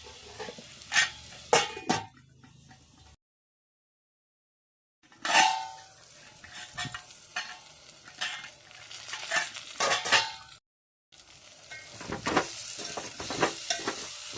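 Chicken curry with tomatoes being stirred in a frying pan, with a soft sizzle and scraping spoon strokes against the pan, broken by short silent gaps and with no talking.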